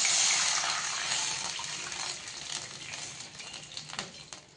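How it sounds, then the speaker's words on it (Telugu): Water pours steadily into a pot of fried chillies for moong dal, a loud gushing stream that gradually softens, with a few clinks near the end. "వాటర్ వేసుకుంటున్నాను."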